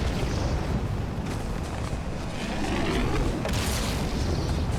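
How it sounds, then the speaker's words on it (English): Gunfire and explosions in the Halo 2 video game form a continuous dense roar with heavy booms and crackling bursts, fairly loud, with no talk over it. "they're firing off rounds somewhere"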